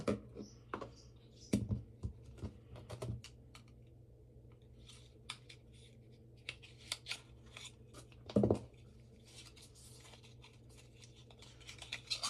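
Crisp snips and crunchy cuts from scissors opening a miniature tarot deck package, a few sharp bursts spaced apart with rustling in between, close up and fairly quiet.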